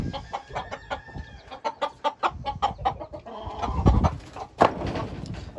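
Gamefowl chickens, including Mac Ray hens, cluck in a pen in a steady series of short close calls with a louder squawk near the end, no talk over them.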